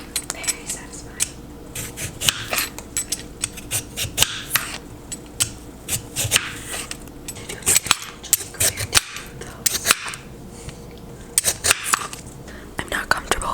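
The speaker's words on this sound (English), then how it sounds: "some tapping noises. Very satisfying." Light tapping and clinking on kitchen utensils and dishes during a cooking session, close and crisp in irregular bursts, with soft whispery voices speaking over the taps.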